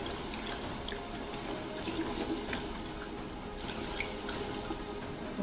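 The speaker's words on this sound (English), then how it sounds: "So now we're going to rinse her with cold water" Steady running water from a tap rinses a human hairpiece, a continuous rushing splash with small drips and splatters on top, close by and with no talking.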